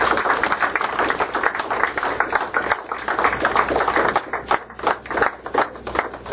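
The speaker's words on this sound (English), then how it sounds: "Let's give them all a round of applause." A church congregation clapping loudly and steadily, dense overlapping claps that swell and dip slightly, with no voices on top.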